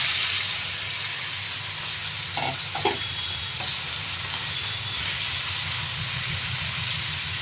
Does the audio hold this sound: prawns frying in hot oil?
yes